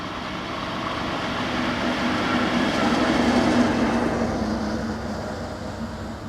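Class 66 freight locomotive hauling a train of empty lime hoppers past in the evening, a steady rolling rumble that swells to a peak as it passes and then gradually fades, with no talking.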